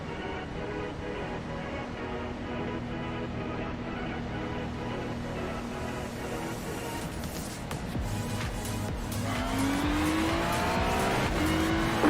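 A simulated race car engine in iRacing, racing at Fuji, drones steadily under the pace lap, then swells into loud, rising revs as the car accelerates hard for the green flag, with no talking over it.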